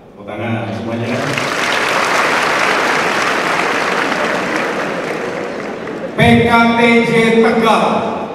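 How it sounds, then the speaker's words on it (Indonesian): Audience applause for transport college delegations at a formal gathering, a loud and steady wash of clapping lasting about five seconds, with someone speaking over a microphone just before and just after. "Tepuk tangan semuanya."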